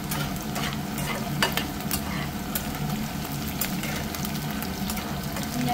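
Crushed garlic frying in a hot wok, a continuous close sizzle with irregular scraping and clattering stirs, no one talking.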